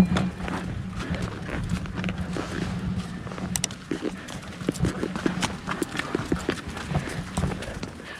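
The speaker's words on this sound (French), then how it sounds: "Le gars descend avec le cheval blanc." A white horse walks along a high mountain road in Venezuela, hooves clip-clopping in a steady, close rhythm, with occasional voices in the background.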